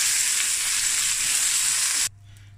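Butter and oil heating in a pan for prawns, a loud, even, close sizzle that carries for about two seconds and then cuts off abruptly, leaving a low hum.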